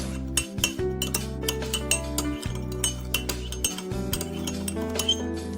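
A spoon clinks repeatedly against an IKEA mug while stirring sugar and water into a syrup, producing rapid, light metallic taps with short pauses in between, close and fairly quiet.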